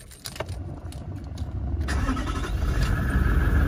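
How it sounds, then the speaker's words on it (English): Faint clicks and rattles, then the engine of a 2017 Toyota Landcruiser GXL 76 series cranks and catches, settling into a steady idle. "Give the car a quick start now."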